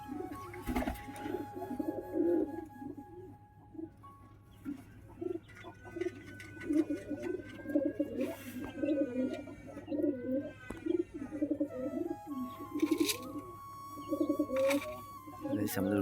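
Lotan pigeons in a breeding loft coo steadily in low, rolling, overlapping phrases, with a few sharper chirps and flutters mixed in over a constant low hum.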